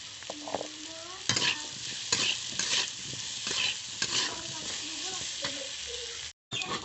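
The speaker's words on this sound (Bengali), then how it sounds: "আর দেব লবণ। ভালো করে ভেজে নেব।" Vegetables frying in a pan with salt and green chilli, a steady sizzle broken by repeated scraping stirs from a spatula, close and fairly loud with no talking.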